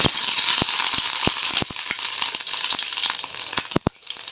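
Chopped ginger and garlic frying in hot oil, a steady close sizzle with occasional sharp crackles and utensil clicks, no talking.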